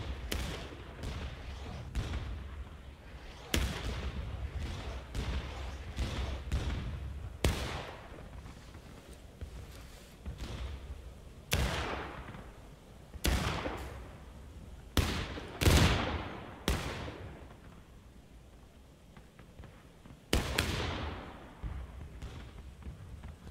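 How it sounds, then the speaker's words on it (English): Artillery and gunfire in the Civil War video game War of Rights: about a dozen heavy booms and shots strike at irregular intervals, some sharp and close, others duller and farther off, with quieter rumbling between them. "Let's wait for artillery to stop."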